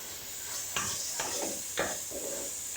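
Masala spices frying in a pan for a gravy, with a steady close sizzle and a few soft stirring scrapes every half second or so; no talking.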